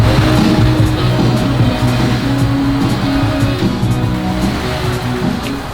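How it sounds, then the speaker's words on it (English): A custom 4x4 shop vehicle climbs an RTI ramp, its engine droning loud and close with a steady low rumble and shifting tones, slowly easing in level over several seconds. "our shop vehicle is going up on the RTI Ramp right behind us."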